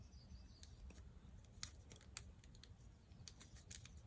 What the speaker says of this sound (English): A really good pair of scissors here.